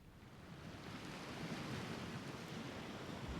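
Subtle ocean wave effect layered into a house music track, heard as a soft, broad wash of surf noise that swells gently and stays quiet and steady throughout.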